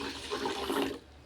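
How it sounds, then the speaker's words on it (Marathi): Water splashes and swirls as ration rice is rinsed in a container, a brief continuous sloshing burst that fades out after about a second. "तर मी हा राशनचा तांदूळ घेतला आहे. तो स्वच्छ धुवून घेते."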